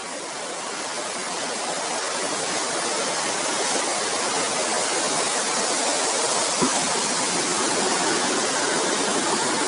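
A cartoon sound effect of water being poured over someone: a loud, steady rushing pour runs unbroken for nearly ten seconds with no voices.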